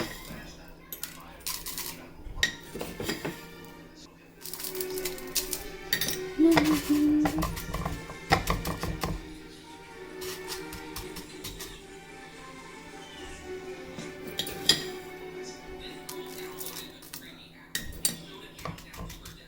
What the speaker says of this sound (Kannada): ಕೆಳಗಡೆ ಉಪ್ಪು ಹಾಕಿ ಆಮೇಲೆ ಅದ್ರ ಮೇಲೆ ಕಪ್ ಕೇಕ್ಸ್ನ ಪ್ಲೇಸ್ಮೆಂಟ್ ಮಾಡೋಣ